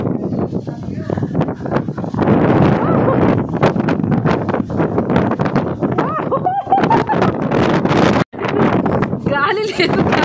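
Strong wind on a hilltop at Horsley Hills in Andhra Pradesh, roaring and buffeting loudly against the microphone in uneven gusts, with voices talking beneath it and a brief drop-out near the end.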